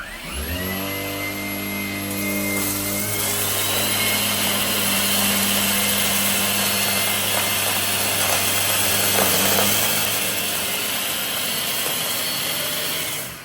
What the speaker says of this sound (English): Let's see how the Shark PowerDetect cordless works on a medium pile carpet.